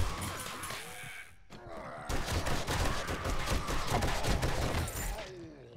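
SMG gunfire in the survival game 7 Days to Die, heard as rapid repeated shots after a brief pause and continuing in a sustained burst, close and fairly loud.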